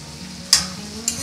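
Manturiyan vegetables frying in a pan, a soft steady sizzle with two short scraping stirs of a spoon, close and alone.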